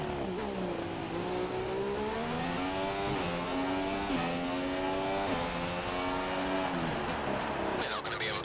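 A Formula 1 race car engine in the F1 2016 game, on the Baku circuit, screams at high revs with rising and dipping pitch through gear changes and corners, loud and continuous, with tire noise at the end.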